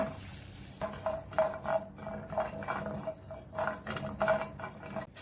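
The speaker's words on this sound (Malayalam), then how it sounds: "വെളുത്തുള്ളി ഫ്രൈ ആയി വന്നിട്ടുണ്ട്" Garlic frying in a pan after dried red chillies, for a horse gram chutney. It sizzles steadily with repeated scraping and stirring clatter, heard close up with no talk.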